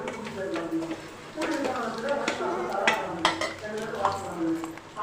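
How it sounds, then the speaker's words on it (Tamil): A spoon stirs and scrapes chilli powder masala in oil in a pan for vendakkai puli kuzhambu, with soft clinks and light sizzling under continuous talk. "இது நல்லா இந்த எண்ணெயிலே போட்டு மசாலாவை நல்லா பச்சை வாசனை போகிற வரைக்கும் நல்லா வதக்கிக்கணும்."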